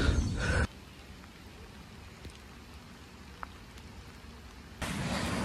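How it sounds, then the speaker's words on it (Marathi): Monsoon rain falls steadily during a fort trek in the hills near Mumbai, a soft even patter with a louder burst at the start and end, no voices. "ते शेवटी पाऊस चालू झालाय."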